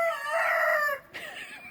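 Chickens kept in a backyard coop, heard as one clear, fairly close call that stretches out for most of a second, breaks off, then resumes more faintly, with no other sounds around it.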